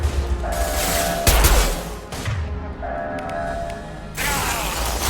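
A metal shutter closing mechanism in Mass Effect 2 grinds and ratchets loudly in mechanical bursts, with clanking, whirring and a heavy thunk partway through, all close and busy.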